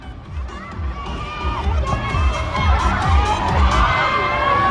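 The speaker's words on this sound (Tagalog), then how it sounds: "palakpakan nyo lang po na may kasamang hiyawan ang gusto nyong manalo" Crowd at an outdoor comedy event in Marikina clapping, shouting and cheering to vote for a contestant, loud dense roar of voices with shrieks building steadily toward the end.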